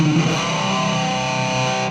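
An electric guitar run through a rotary vibe and a chorus pedal sustains one thick, swirling, heavily processed chord for about two seconds, steady and loud with no talking.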